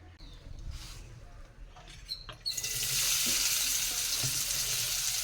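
Onions fry in oil for a chicken curry, the sizzle jumping from a quiet background to a loud, steady hiss partway through, with faint kitchen clatter before it.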